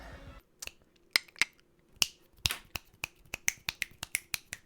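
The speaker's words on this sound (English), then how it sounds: "Am I snapping my fingers enough?" Finger snaps in the video game Enter the Gungeon, about a dozen sharp dry cracks in a quickening, uneven rhythm, loud and close, with a faint background hum.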